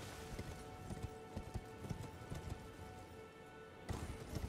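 A horse galloping in Elden Ring, rhythmic hoofbeats thudding at a steady pace under a constant background wash, with a brief louder burst near the end; no talk.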